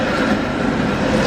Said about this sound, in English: here we have Heritage Tram route number 23